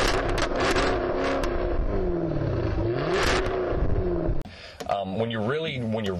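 The supercharged V8 of a 495-horsepower Jaguar F-Type V8 S roars and revs up and down loudly, its deep growling exhaust rising and falling before dropping to a rumbling burble.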